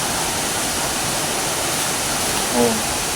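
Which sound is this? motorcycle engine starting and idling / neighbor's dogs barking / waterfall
waterfall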